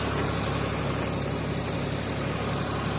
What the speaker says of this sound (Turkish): Ben traktör kullanıyorum.